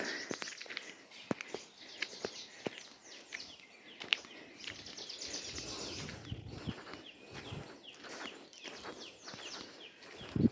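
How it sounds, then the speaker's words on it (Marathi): Birds chirp and call intermittently at a distance in a quiet forest, with soft scattered clicks and rustling underneath. "जंगलात फिरलं की असं आपल्याला पक्ष्यांचा आवाज"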